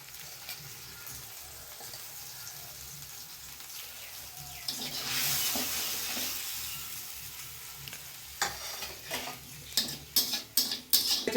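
Ground cumin, Kashmiri chilli powder and sugar frying in a pan for a bottle gourd and poppy seed dish, a soft sizzle that swells midway, then a run of sharp scraping and stirring clatters near the end.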